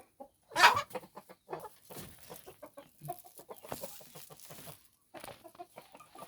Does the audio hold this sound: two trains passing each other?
no